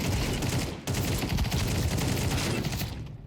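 Dense, continuous automatic gunfire in Counter-Strike 2, loud rapid bursts filling the whole moment with only a split-second break.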